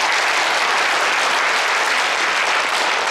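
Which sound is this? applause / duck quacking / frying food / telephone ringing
applause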